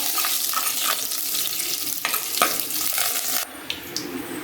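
Cumin seeds and a dried chili crackle and splutter in hot oil in a pan, a close, continuous sizzle dotted with small pops and a few stirring scrapes.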